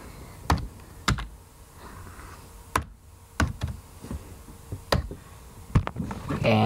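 Typing on a computer keyboard: a handful of sharp, separate key clicks spaced irregularly over several seconds, close and fairly loud against a quiet room background.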